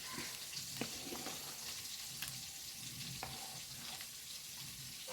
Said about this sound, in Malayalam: എന്നിട്ടൊന്ന് ഇളക്കാം